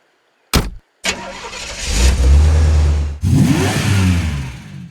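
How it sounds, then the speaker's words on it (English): A car starts with a door thud, then its engine revs up loudly and pulls away, a steady close engine roar that swells and continues without any speech. "You're just gonna let him drive away?"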